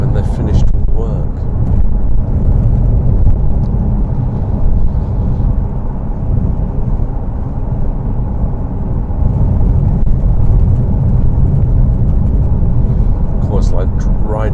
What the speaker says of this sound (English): like riding on a dirt gravel track. So noisy.